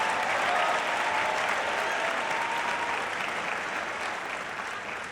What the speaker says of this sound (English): Let's give him another tremendous round of applause.